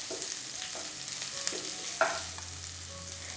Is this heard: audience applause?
no